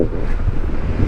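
Strong wind buffeting a microphone while riding a Honda ADV160 motorbike along a seaside road, a loud, continuous low roar with no talk.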